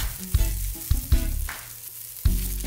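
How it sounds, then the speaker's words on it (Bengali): Onions and whole unpeeled garlic cloves charring in a hot pan, loud sizzling broken by several sharp scraping stirs and clatters, close and with no talk. "এখন দুটোকেই আমি একসাথে ঝলসে নিচ্ছি।"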